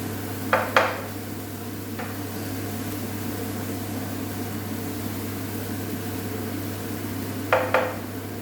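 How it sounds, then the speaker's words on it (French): Garlic and onion frying in a pan for pasta bolognese, a low steady sizzle under a constant hum, with a couple of sharp utensil knocks against the pan at the start and again near the end. "pour éviter que l'ail crame, ben voilà, hein, on remue régulièrement"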